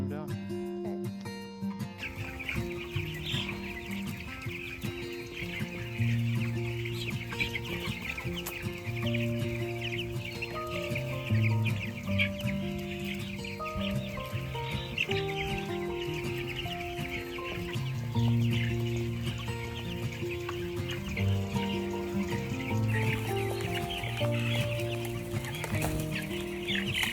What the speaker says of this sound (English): So this is our brooder house where we start our broiler chickens.